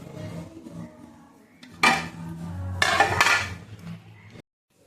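Kitchen clatter while vegetables are prepared: metal utensils and dishes clink and scrape, with two louder bursts of rattling pans and cutlery close by, then sudden silence.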